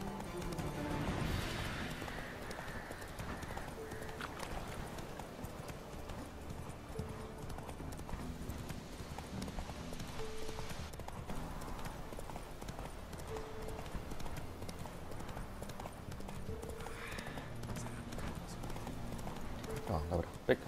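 Steady hoofbeats of a horse clip-clop throughout under game music in The Witcher 3: Wild Hunt, with a brief whinny early on and a voice talking over it.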